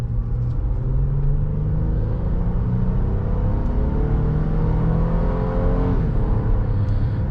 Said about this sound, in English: you can hear that VTEC kick in a little bit there